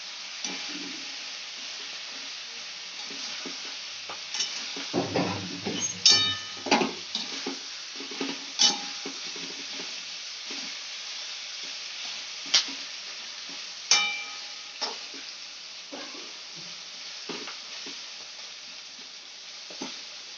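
Capsicum and onion fry in a pan for chilli chicken, a steady soft sizzle broken by scattered scraping stirs and light clinks of the utensil against the pan, with no talking.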